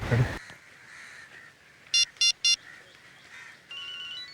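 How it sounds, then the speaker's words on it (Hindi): A mobile phone ringtone rings three times in short, evenly spaced bursts, clear and moderately close, between quieter background sounds during a search for a missing phone. "रिंग जा रही है सर।"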